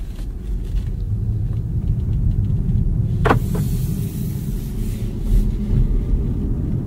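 2023 BMW i4 eDrive40 electric car driving, heard from inside as a low, steady road rumble with a soft motor whine and a brief faint squeak partway through, no talking.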